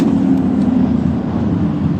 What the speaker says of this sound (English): Freedom Village Thunder Cars, a couple of hot laps to burn off the mist, and they are ready to go.